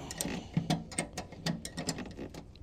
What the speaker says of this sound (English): Tighten this one up.